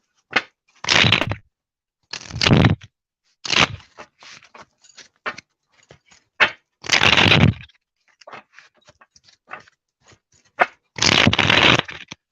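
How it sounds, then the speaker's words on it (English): Cards for a card reading being shuffled and pulled, with several loud riffling bursts of a second or so separated by quieter slides, taps and snaps of individual cards, close by. "let me pull some other cards and then we'll see"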